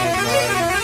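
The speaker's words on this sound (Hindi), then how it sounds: "हॉर्न सुनाता हूँ आप लोग को।" A steady, sustained Ashok Leyland truck horn in Bus Simulator Indonesia blares continuously at close range, holding a harmonic-rich tone throughout with no talking over it.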